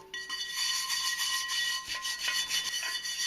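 Brass bristle brush scrubbing rust from a neglected cast iron pan, a steady close rasping rub with short repeated strokes, heard alone without talk.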